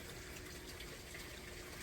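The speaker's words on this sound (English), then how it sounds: "That's going down into the sump that is pumping aquaponic water up to this vertical grow bag." Irrigation water drains and splashes into an aquaponic sump in a grow area, a steady, soft gushing trickle heard alone.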